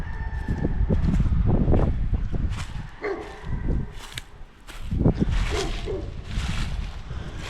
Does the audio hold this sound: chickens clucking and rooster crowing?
yes